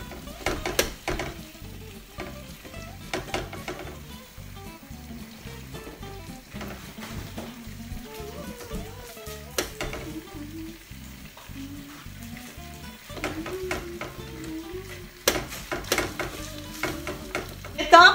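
Scallopine simmering in a lemon juice and butter sauce in a covered pan, giving a steady, moderate frying sizzle with soft bubbling and occasional utensil clinks, no talk over it.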